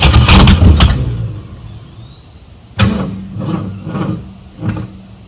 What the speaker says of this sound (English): we're going to try and crank and run it again